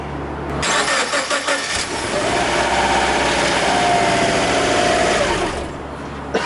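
A Subaru Forester XT engine cranks briefly and then catches, revving up loud and close before settling toward idle, with no talking over it.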